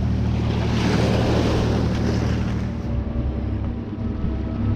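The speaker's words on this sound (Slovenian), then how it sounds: "Ko trajektor spiha voda" A ferry's propeller churns the sea in a dense, steady roar of turbulent water, with deep rumble and wind buffeting the microphone, loud and continuous close by.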